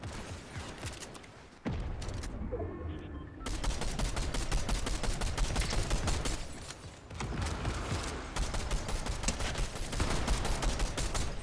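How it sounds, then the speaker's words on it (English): Rockets and rapid gunfire in a Fortnite match, loud, dense bursts of shots and blasts rolling almost continuously through the stretch, with a brief lull near the start before the barrage resumes. "Oh, I got a guy shooting fucking rockets at me"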